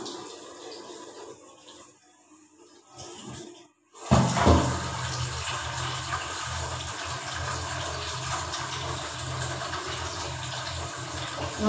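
Rice being washed in water in a home kitchen, a steady running, splashing wash that starts abruptly after a quiet stretch and carries on evenly and fairly close.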